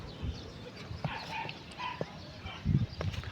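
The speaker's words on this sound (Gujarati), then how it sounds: "અને એક ઓનું કૂતરું ભવ જ કરતું." A dog barks in a few short, fairly faint yips and woofs with small whimpers between them, heard over low background noise.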